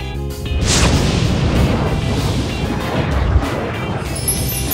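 A fire bursts up with a sudden whooshing roar that settles into a loud, steady rushing blaze, with a sharp crash at the start.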